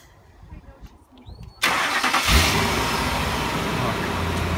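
An old, rusty truck engine catches at about 1.6 seconds and then runs loud and steady, close by, with a rough, struggling idle. Quiet outdoor noise comes before it starts.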